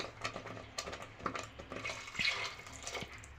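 Water splashes and trickles into a pot of village-style green gram curry (pachai payaru kulambu). The pouring is faint and uneven, with small gurgles and no voices.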